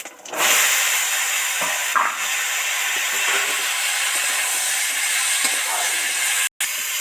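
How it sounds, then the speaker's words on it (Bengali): Bitter gourd, potato and mixed vegetables go into hot oil with panch phoron, bay leaves and dry red chillies, giving a steady, loud, continuous sizzle and hiss that lasts throughout, with no talking. "সব তো ভাজা ভাজা হয়ে গেছে, এবার সবজিগুলো উঠিয়ে দেব।"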